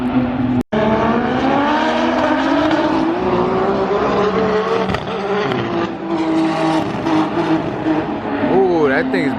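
A race car engine misfires and breaks up at a race event, its loud sputtering roar wavering for several seconds before revving up again at the end, with people talking over it.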